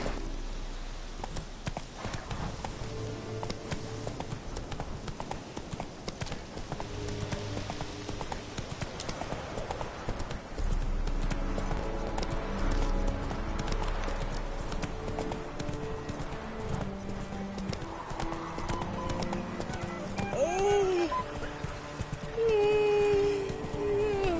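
Roach the horse in The Witcher 3 gallops in steady rhythmic hoofbeats for a long stretch, a whinny rising near the end, set against game music and ambience.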